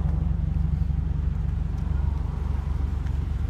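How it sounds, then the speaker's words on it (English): A 2013 Scion FR-S with a TRD sports exhaust runs at a steady idle, a loud, deep, throaty low rumble with a fast, even pulse and no speech. "I'm sure you can hear TRD exhaust"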